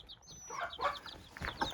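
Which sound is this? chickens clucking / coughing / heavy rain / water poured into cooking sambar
chickens clucking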